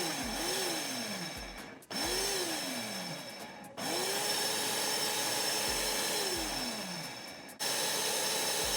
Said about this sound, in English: I'm going to blitz that, a little bit of that in the blender.